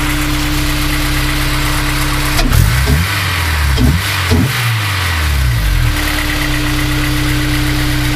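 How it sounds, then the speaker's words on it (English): A 2001 Honda S2000 engine idles steadily, then revs up sharply several times in quick bursts before settling back to a low idle. "I'll rev it up for you"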